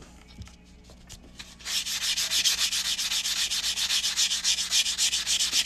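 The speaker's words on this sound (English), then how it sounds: "So what I'm doing right now is I'm just sanding these cut edges to make them nice and smooth." Sandpaper rubs rapidly back and forth over the freshly cut edges of a coin ring, a close, bright, rhythmic rasp of steady strokes after a few quiet handling knocks.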